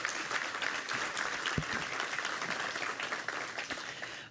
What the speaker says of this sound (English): A big round of applause for this incredible company.